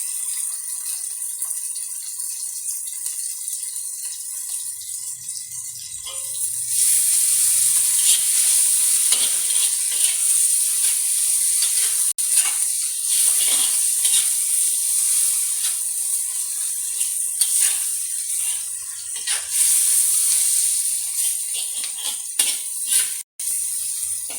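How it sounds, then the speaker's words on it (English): Prawn masala sizzles hard in a hot pan as curry leaves go in. Loud, steady frying hiss jumps up partway through, with occasional stirring scrapes and clicks. "Now I'm adding the curry leaves."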